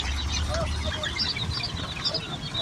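Roosters and quail crowd a busy poultry market, with clucking and short bird calls scattered over continuous chatter and market noise.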